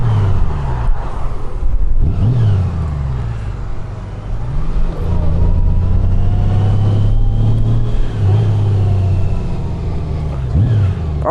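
A 2025 Honda Goldwing motorcycle rolls up to a dealership, its engine rumbling steadily at close range with a few rises in revs throughout.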